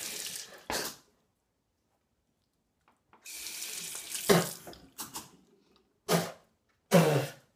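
Tap water runs in bursts into a sink while a toothbrush is rinsed during brushing with braces: a short gush, a pause, a longer flow, then two brief splashes, close and clear.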